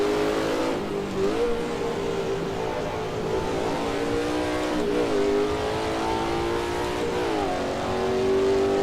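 A race car engine in a virtual racing sim game drones loudly and continuously, its pitch dipping and climbing through several gear shifts and corner exits with no other sounds.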